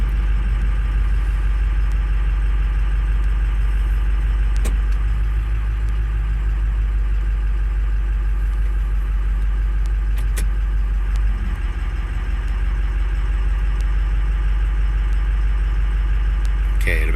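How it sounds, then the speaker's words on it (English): A 2005 car engine idles steadily just after a cold start, running loud and close with a constant low rumble and no speech over it. "let's just cold start, you know."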